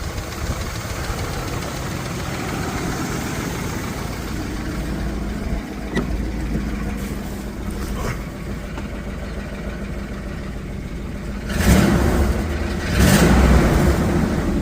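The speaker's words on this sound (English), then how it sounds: "There is definitely exhaust leak." An old Dodge Ram's 5.7L Hemi V8 with an exhaust leak idles with a ticking, rough rumble, then revs up twice in short, loud bursts near the end.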